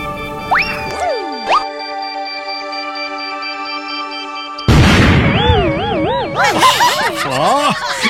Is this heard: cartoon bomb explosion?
yes